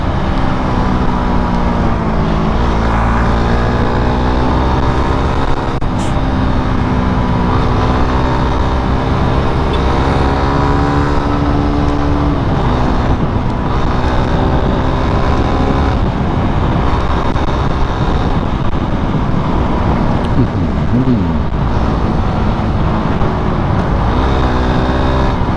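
Suzuki Raider 150 motorcycle engine revving hard while riding through traffic, a loud continuous whine with rising and falling pitch as the rider pulls through high revs near the 13,000 rpm cutoff.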